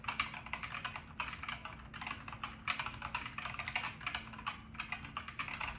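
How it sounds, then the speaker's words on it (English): Someone types on a DK61e 60% mechanical gaming keyboard fitted with brown switches. Quick, uneven bursts of close, fairly quiet key clacks run steadily for several seconds with no voices. "what it sounds like when typing."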